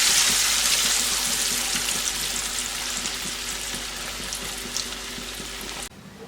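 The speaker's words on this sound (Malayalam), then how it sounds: "ഇനി നമുക്ക് മൊത്തത്തിലൊന്ന് ഫ്രൈ ചെയ്തെടുക്കാം" A snack fries in hot oil with a loud, steady sizzle and bubbling crackle that stays close and continuous. The sizzle thins slightly over time and cuts off abruptly near the end, with no voices.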